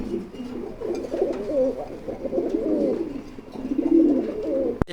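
Pigeons of king, Maltese, Lahore and racer breeds coo steadily at close range in a seller's loft, a continuous warbling murmur of several birds throughout.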